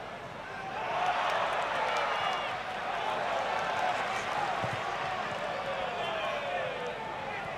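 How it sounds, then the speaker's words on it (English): Crowd noise at a Germany vs Spain under-21 international football match, a steady broad roar with some applause swelling near the start and holding throughout, with commentary-style talk faintly underneath. "A round of applause from the rest of the defence and from the crowd"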